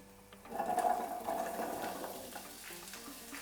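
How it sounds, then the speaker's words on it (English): Carrots sizzle and crackle in hot oil for a korma, a bright hiss that swells and then settles into a steady fry, with faint clinks of stirring. "since I'm getting a sizzle, I know I can add in the rest"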